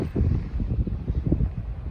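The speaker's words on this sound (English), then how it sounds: "It's also really windy" Strong wind buffets the microphone on a mountain trail on Neahkahnie Mountain, a low, gusty rumble that surges and dips continuously without any talk.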